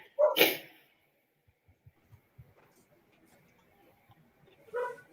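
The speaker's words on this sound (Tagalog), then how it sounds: "Maraming aso dito, pasensya na." A dog barks once sharply up close, then soft rustles and faint taps follow before another bark near the end.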